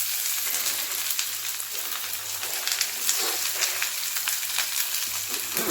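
Onions frying lightly in oil give a dense, even sizzle like light rain, close by, with a few faint stirring clicks and no talk.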